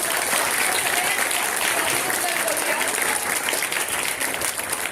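An audience at a school event breaks into loud, sustained applause, dense clapping that holds steady throughout.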